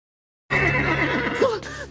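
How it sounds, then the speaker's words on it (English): A horse in an animated film lets out a loud, close neigh that starts abruptly and runs about a second and a half with wavering whinny tones, trailing into a softer breathy snort. "this horse has been on a never-ending sniff hunt for Ryder the whole time"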